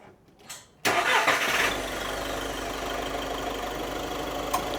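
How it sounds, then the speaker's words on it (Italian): A car engine cranks and catches after a brief quiet moment, then settles into a steady running idle, close by. "Prova a mettere in moto, Andrea."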